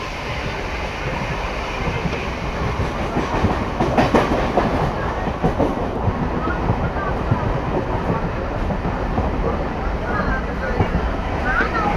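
Local train running from Ranaghat Junction toward Sealdah on a quiet winter night, with a steady, loud rumble of wheels and carriage clatter filling the whole stretch, its clickety-clack rhythm continuous and close.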